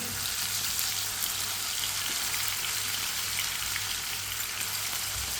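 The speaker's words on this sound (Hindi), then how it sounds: "दो बारीक कटे हुए टमाटर डाल लेंगे। 2 सब्ज़ मिर्च बारीक कटी हुई मिक्स कर लेंगे।" Finely chopped tomatoes and green chillies frying in a pan on the stove, a steady, close hiss and crackle that holds without a break throughout.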